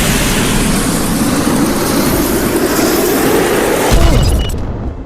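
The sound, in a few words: helicopter vehicle in Worms WMD video game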